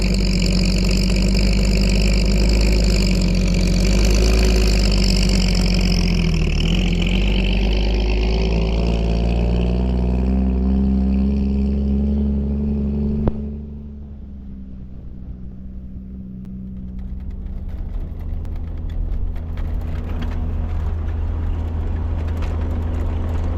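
A ramp truck engine runs steadily with a loud, full drone. Its pitch shifts with speed, then it drops to a lower, quieter idle-like rumble for the last ten seconds.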